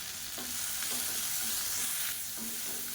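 Onion and tamarind are sautéed in a pan for chutney, making a continuous, even hiss of frying with faint spatula strokes that recur at intervals.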